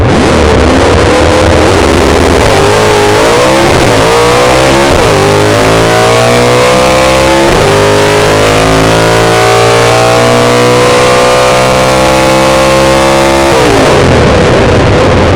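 A Chevrolet Camaro Z28 engine revs loudly in the racing video game Motor City Online, climbing through several rising pitch sweeps and gear changes over about fifteen seconds with no voices present.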